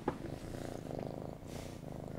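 A cat purrs continuously in the video game As Dusk Falls, a soft, low rumbling that runs evenly throughout, close and quiet.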